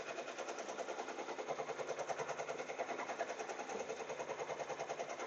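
A sewing machine runs steadily while stitching jackets, a continuous fast mechanical chatter that holds at an even level throughout with no talking.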